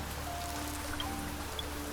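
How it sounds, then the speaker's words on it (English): Soft, steady rain patters in the video game Niche, a faint continuous wash of droplets with a few brief higher drips and no talk over it. "So it's raining, which means the berries are back."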